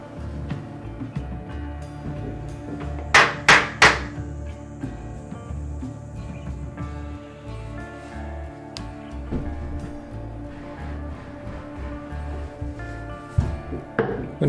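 Pieces of a walk-in closet are tapped into place: three sharp, loud knocks in quick succession early on, then fainter scattered taps and handling noise close by.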